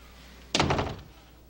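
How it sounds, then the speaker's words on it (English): A door swung shut with a single solid thunk, close and fairly loud, followed by a brief rattling decay and then near silence. "As long as you're in, why don't you shut the door?"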